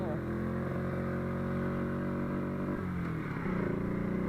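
A motorcycle with a manual gearbox pulls away as the clutch is released, its steady engine hum shifting pitch and rising slightly toward the end, heard close and moderately loud.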